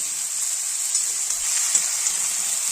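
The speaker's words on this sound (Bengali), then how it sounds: "বেশ কিছুক্ষণ এইভাবে একটু ভাজা ভাজা করে নিয়েছি" Vegetables for Hiyar Hensel frying in a pan, a steady close sizzle with faint crackles and no voices throughout.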